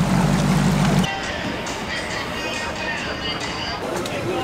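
A bass fishing boat idles on the water during a tournament, its engine a steady low drone at first, then giving way to broadband wash of wind and water rushing past.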